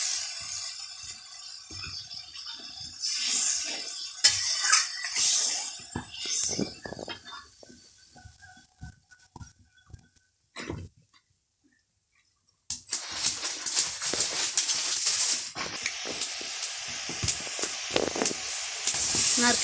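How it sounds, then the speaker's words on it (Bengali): Coconut milk poured into spiced oil in a pan for a Bengali soybean malai curry brings a hissing sizzle with clinks of utensils, fading to near silence before a louder, sustained frying hiss returns. "এবার নারকেলের দুধটা দিয়ে দিচ্ছি।"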